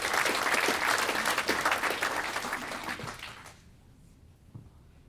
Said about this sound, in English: Let's all give a clap to Samoa for inviting her.